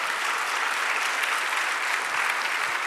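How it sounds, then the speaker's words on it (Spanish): A church congregation applauds during a sermon, producing a dense, continuous wash of clapping that holds steady and loud from start to finish with no pauses or speech over it. "Dale otro aplauso al Señor."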